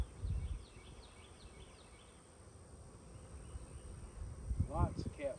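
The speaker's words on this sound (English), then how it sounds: "There's a lot of bees up here." Honey bees hum around an open hive on a farm during a Demaree split, a low steady drone that swells briefly near the end.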